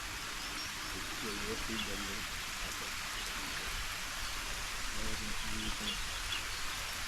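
A steady, rain-like hiss of a water sprinkler spraying nearby over a vegetable and leafy-greens patch, with voices talking briefly over it and faint birdsong in the distance.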